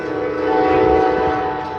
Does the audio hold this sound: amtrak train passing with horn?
yes